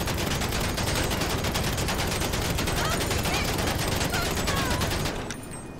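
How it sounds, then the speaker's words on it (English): Carbine rifle fired in GTA 5 at a Benefactor Schafter, a dense, loud burst of rapid automatic gunfire running continuously for about five seconds before cutting off abruptly. "Let's try it with a carbine rifle."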